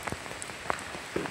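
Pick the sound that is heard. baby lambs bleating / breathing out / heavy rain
heavy rain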